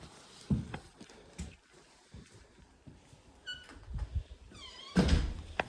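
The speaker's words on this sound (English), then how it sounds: "So I'm entering in through the front door." The front door of a house in Voluntown opens on entry, with thuds and clunks near the start and end under a steady room hiss, plus a couple of short cat meows in between.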